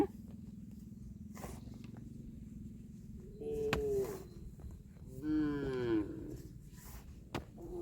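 Water buffalo low with deep moaning calls in a rice paddy, two drawn-out bellows rising over a steady low rumble, fairly close, with a sharp knock near the end.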